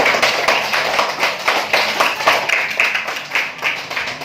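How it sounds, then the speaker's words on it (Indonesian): A grade 5 primary school class claps in rhythmic bursts, loud and close, with a few taps and no speech over it. "Tepuk tangan untuk kelas 5."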